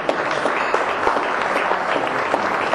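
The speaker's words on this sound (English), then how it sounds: "give a round of applause to all of our" A crowd at a Latin Chamber of Commerce event gives a round of applause for elected officials, steady dense clapping filling the room without pause.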